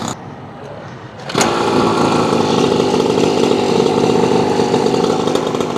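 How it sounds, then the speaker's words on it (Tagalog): A motorcycle engine starts up on a public road, a sudden loud jump to a steady, buzzing engine drone that stays close and constant through the rest. "nagkabire yung motor eh."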